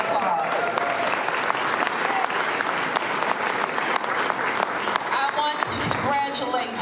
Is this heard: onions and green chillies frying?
no